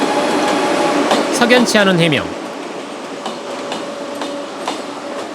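A train runs on the Honam line railway track with a steady rumbling roll and faint rhythmic clicks, while someone speaks over it at first.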